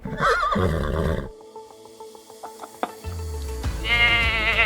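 A horse gives a loud, shaky whinny during a children's toy farm game, followed by quieter farmyard noises, then another bleating animal call at the end.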